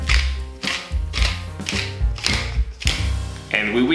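Black pepper ground by hand over a burger mixture with lemon zest and olive oil, a series of close, crunchy ratcheting grinds in about six regular bursts, heard alone.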